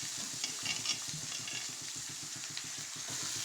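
Diced potatoes, peas and carrots tumble into a hot pan of chow mein and sizzle steadily, with a continuous near frying hiss and rhythmic stirring scrapes throughout.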